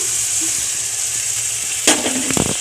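A loud burst of sizzling as water hits cumin, chilli, ginger and peanut paste frying in a pan, flaring up sharply, then crackling and bubbling briefly afterward.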